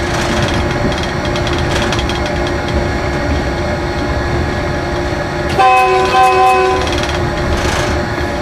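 A train rolls through a station with a continuous loud rumble and clatter of wheels on rail, then a sustained horn blast cuts in near the end, close and steady throughout.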